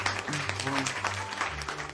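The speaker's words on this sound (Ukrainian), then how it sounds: "Давайте теж оплесками привітаємо наш 11 клас" Steady applause from a school audience greeting the 11th grade at a first-bell ceremony, a dense even patter of many hands with a low hum beneath, continuing throughout.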